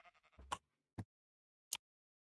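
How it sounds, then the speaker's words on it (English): Minecraft sheep bleat in a quick series of short, quiet in-game calls, followed by two isolated bleats spaced apart, with silence between them and no talking. "I got the two sheep home."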